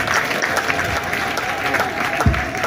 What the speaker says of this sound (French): 90 ans de vie sur terre, on applaudit fort.